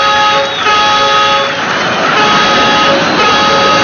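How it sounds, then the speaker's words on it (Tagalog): A car horn honks in a busy street scene, with steady traffic noise and faint voices in the background throughout. "Ingay pa, busina pa ng busina."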